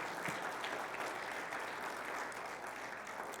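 A church congregation gives a strong round of applause after a sermon, a steady wash of many hands clapping that holds evenly throughout, moderately distant, with no one speaking over it.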